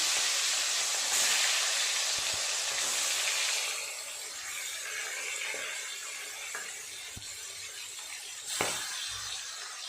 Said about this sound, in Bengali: বাকি মাছগুলো একই রকমভাবে ভেজে নেব।